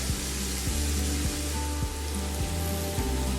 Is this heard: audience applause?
no